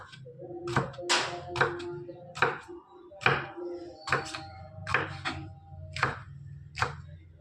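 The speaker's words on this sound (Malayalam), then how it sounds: "ഇനി നമുക്ക് ഒരേ കഷ്ണം എടുത്ത് ഇങ്ങനെ വട്ടം വട്ടം അരിഞ്ഞെടുക്കാം" Knife slicing bitter gourd into rounds on a board, about a dozen crisp chopping thunks in a steady, slightly uneven rhythm, close and clear with a faint background hum.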